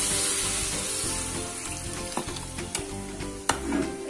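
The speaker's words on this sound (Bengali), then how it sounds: "এবার এখানে সরষের মতো আমি জল দিচ্ছি" Masala with prawns, potato, brinjal, pumpkin and drumsticks fries loudly with constant sizzling and stirring, then a few sharper splashes and bursts of sizzle as water goes into the hot pan.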